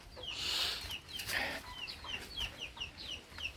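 Neighbor's chickens and chicks clucking and chirping in a backyard coop area, a series of soft repeated clucks and high peeps at moderate distance, no one talking.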